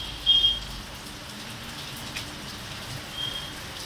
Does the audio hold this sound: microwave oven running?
no